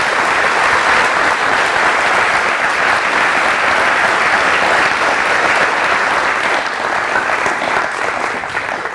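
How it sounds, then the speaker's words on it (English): A lecture audience gives dense, loud, continuous applause after a talk on toxicants from marijuana cultivation in forests. The clapping holds steady and tapers slightly at the end. "let's give Mourad a round of applause"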